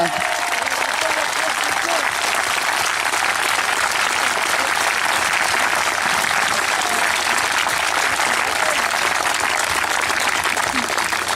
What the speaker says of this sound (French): j'aimerais qu'on les applaudisse très fort, vraiment très fort.